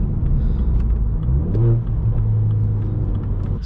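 A straight-piped BMW 1 Series F21 accelerating on a dual carriageway at night, heard from inside as a loud, deep exhaust rumble that rises in pitch through a rev.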